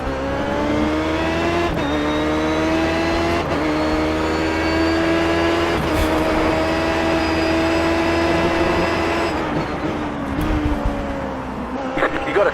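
An onboard race car engine at Sebring during an endurance round, roaring loud and close for the whole stretch, its pitch rising with each acceleration and dropping at gear changes and braking.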